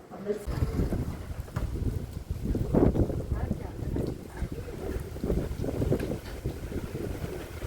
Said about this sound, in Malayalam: ഈ കാറ്റുമഴയത്താണ് നമ്മൾ അമ്പലത്തിൽ പോകുന്നത്